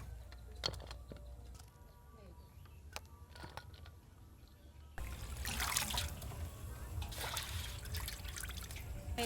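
Chopped food being washed in water for a river-shrimp dish, with drips and trickles at first, then louder, steady sloshing and splashing close by.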